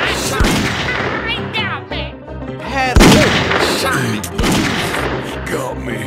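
Repeated gunshots from the Western shooter game Grizzly Gulch, several loud cracks and booms amid a dense, busy game soundscape, with a voice talking over parts of it.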